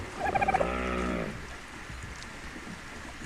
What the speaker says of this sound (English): That is one of those thieving birds again.